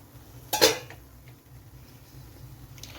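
A metal pot lid lifts off a pot of cooking oats upma with a single sharp clatter, followed by quiet kitchen room tone and faint scraping.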